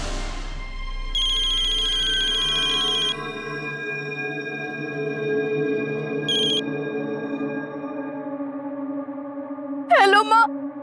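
Mobile phone ringtone on a call, a bright repeating tonal melody with echoing tails, loud and close, alone with no talk, ending in a quick rising electronic flourish.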